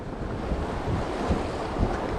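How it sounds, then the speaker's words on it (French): Strong wind roars at a seashore with breaking waves surging steadily beneath it, a continuous, loud, buffeting wash during a fishing outing with a new rod. "Par contre le vent forci"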